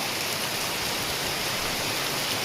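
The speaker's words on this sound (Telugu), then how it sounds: "దారుణంగా ఉంది ఈ వర్షము" Steady, dense rain pouring down outside a hostel without pause, a constant hissing wash of drops close by.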